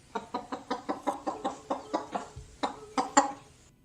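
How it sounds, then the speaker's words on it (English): A chicken clucks in a steady run of sharp, rhythmic calls, about a dozen in a row, ending with a few louder, more agitated squawks. "All right, Bird, what do you think this chicken's feeling?"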